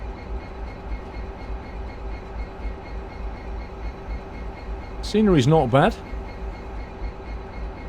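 A Class 66 diesel locomotive in Direct Rail Services livery, from Train Simulator 2015, drones steadily with a low engine hum. Near the middle a loud, brief horn blast rises over it, and someone talks over the engine.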